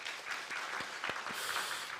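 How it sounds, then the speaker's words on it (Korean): Quiet applause from a church congregation, a soft, steady patter of many hands heard from a distance, with a few louder thumps mixed in. "박수 한번 해주세요."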